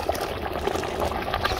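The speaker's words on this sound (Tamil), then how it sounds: "தண்ணி ஊத்திருக்கோம் இல்லையா?" Water being poured into a thick black fish gravy with curry leaves, a steady soft liquid pour with faint bubbling, close and continuous without talk.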